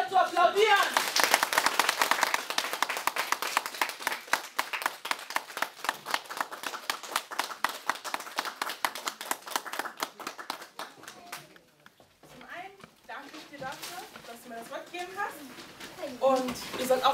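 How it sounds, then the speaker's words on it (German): Church congregation clapping for the woman preacher, a loud sustained round of applause that thins out midway, then picks up again, with speech over part of it. "Ich bitte euch für die zu applaudieren."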